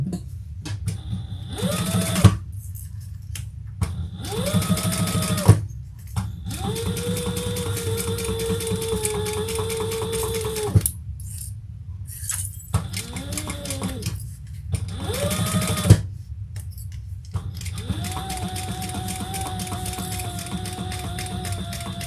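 A sewing machine stitches a crossbody bag in repeated bursts, loud and close, each run of steady mechanical whirring broken by short pauses and brief clunks.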